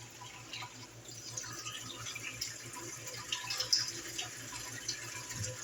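Filtered water pouring from a water filter into a cup for a crockpot cubed steak and gravy recipe, a steady close trickle and splash running throughout under a low background hum.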